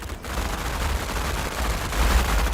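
Submachine guns fire in the tactical video game Menace. Dense, rapid bursts crackle continuously with no pause, loud and close, over a low rumble.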